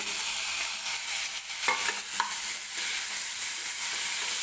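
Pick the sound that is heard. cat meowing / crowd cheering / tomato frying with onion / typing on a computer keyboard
tomato frying with onion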